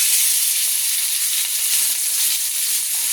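Seasoned meat browning in a hot pot gives a steady, dense sizzle and hiss that holds close and even throughout, with no one talking.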